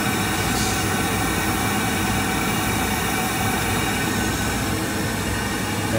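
A Trumpf L3030 laser cutting machine pulses through its nozzle during a tape-shot alignment, producing a loud, steady broadband roar and hum that holds evenly throughout with no talking.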